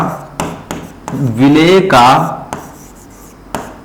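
Writing on a board during a Class 12 chemistry lesson gives sharp, spaced taps and scrapes, with a drawn-out tonal squeak in the middle; the sounds are close and clear.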